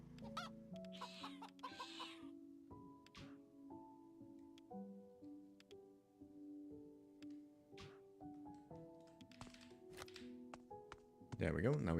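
Rooster clucking from a video game, ASFTU, sounding in short repeated bursts over tonal game music, with a louder burst of sound at the very end.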